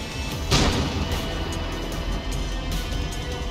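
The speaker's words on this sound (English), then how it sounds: "Where are these fucking mortars coming from?" Mortar fire in the video game Far Cry New Dawn: one loud boom strikes early, then a constant rumble of gunfire and battle noise rolls on without letting up.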